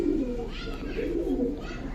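Domestic Giribaz high-flyer pigeons coo close by in a loft, a steady, throaty, low-pitched cooing that runs without pause through the whole two seconds, with no talking.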